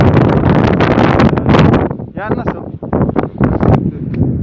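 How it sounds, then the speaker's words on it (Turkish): Strong wind roars and buffets the microphone continuously in snowy outdoor conditions while people talk over it. "efsane rüzgar var"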